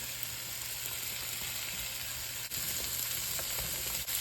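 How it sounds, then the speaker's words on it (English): Zucchini and summer squash sizzle in a hot pan with a steady, dense, close crackle, unbroken and with no voices. "I'm going to add the veg. So in here I've got a zucchini and a summer squash."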